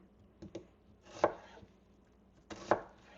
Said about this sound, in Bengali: সো আমি একটু বড় বড় চাঙ্কস করে কেটে নিতেছি